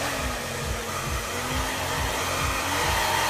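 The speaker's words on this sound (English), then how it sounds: "so let's just use hairdryer at this point" A hair dryer heating a brush during a men's haircut blows steadily and loudly, a constant rushing roar with a low motor hum underneath, running without pause.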